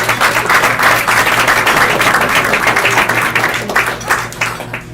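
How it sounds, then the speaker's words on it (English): A convention crowd at a California Republican Assembly gathering bursts into loud, sustained applause with cheering, dense and close, tapering slightly toward the end. "Let's give him a round of applause."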